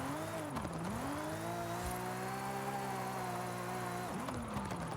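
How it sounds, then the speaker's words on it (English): Engine of an old-school wide body Nissan R33 Skyline with its original inline engine, drifting in a racing video game: a steady, loud howling drone held high for several seconds, dipping briefly at the start and again near the end. "Kind of cool drifting an old school wide body Skyline."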